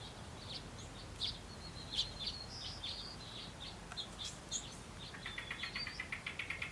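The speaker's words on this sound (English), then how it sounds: "If you hear a lot of birds, it's because I'm actually filming this outside." Small birds chirp outdoors, scattered high tweets and short calls spread across the scene, then a quicker run of repeated chirps near the end, fairly faint and with no one talking.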